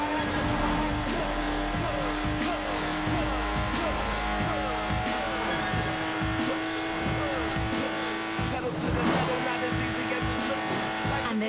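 A Lotus Exige sports car driven in a racing game, its engine droning steadily with repeated gear-change revs and tyre noise throughout.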